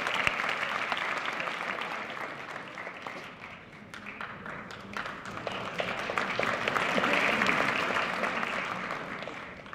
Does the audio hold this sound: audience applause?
yes